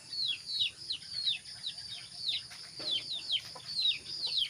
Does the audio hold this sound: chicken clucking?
yes